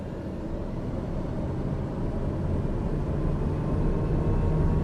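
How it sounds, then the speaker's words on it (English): A light aircraft engine in Microsoft Flight Simulator 2020 throttles up for takeoff, a steady low droning roar that builds slightly in loudness throughout, with no voices. "we're going to release the brake. Increase the throttle."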